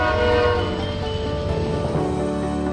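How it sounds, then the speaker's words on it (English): A train rolls through a Christmas celebration in Collierville, its horn sounding in long sustained harmonic blasts over the steady rumble of the cars, loud and close throughout. "as if on cue, one more train"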